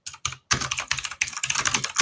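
Rapid keystrokes on a computer keyboard, clattering in quick bursts with brief pauses between them, close and fairly loud with no voices.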